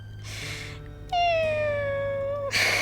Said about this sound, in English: And making this meowing sound.